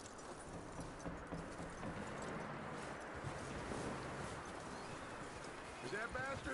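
Rhythmic clip-clop of horse hooves trotting steadily in Red Dead Redemption 2, with a continuous background bed of game ambience throughout.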